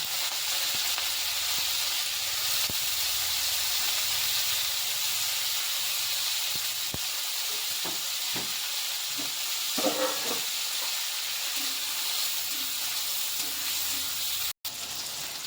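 Goat fat sizzles and hisses steadily in a hot pan alongside chopped onion, a continuous close frying sound with a few soft clinks and stirring touches partway through.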